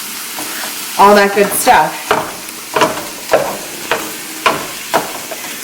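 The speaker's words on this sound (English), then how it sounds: "Breaks up your meat, stirs it around" Sausage meat sizzles and fries in a pan while a spatula breaks it up and stirs it, scraping in repeated short pushes every half second or so, close and clear, with someone talking briefly over it.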